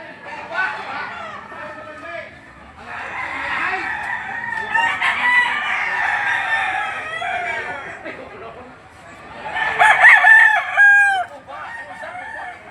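Chickens cluck and chatter continuously at a poultry shop in Lipa City, Batangas, with a rooster crowing loudly near the end; the birds sound close and fill the whole stretch.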